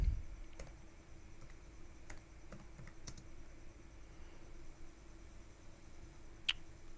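Mouse clicks on a computer while filling in an online US B1 business visa DS-160 form: a few sharp, faint clicks spaced across a quiet room with low steady hiss and no talking.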